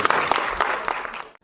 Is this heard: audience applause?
yes